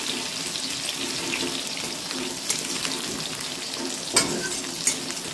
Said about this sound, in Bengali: আলু কটা লাল করে ভেজে নিই